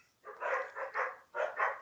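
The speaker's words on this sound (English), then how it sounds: "Uh-oh, dog's barking." A dog barks five times in two quick pairs and then a third pair, fairly close and loud, with a short pause after the first two barks and no other sounds.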